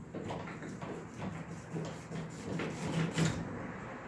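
A freshly sharpened Buck 120 General knife saws through thick rope with repeated rough rasping and rubbing strokes, close by and moderately loud, with a few stronger pulls near the end.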